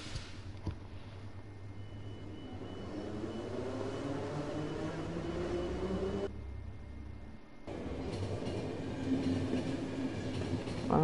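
A train rolls steadily along in the video game Nighttrain, a continuous low rumble with rail noise that briefly drops out mid-way, then returns and swells slightly louder toward the end, with no talking.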